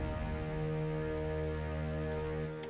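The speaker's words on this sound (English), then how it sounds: "I added this brass horn," A sustained, buzzy brass horn synth preset from an FL Studio neurofunk intro, shaped with EQ and OTT compression. It holds one rich, harmonic tone that is steady and dense, then thins slightly near the end.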